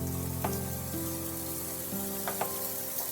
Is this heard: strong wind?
no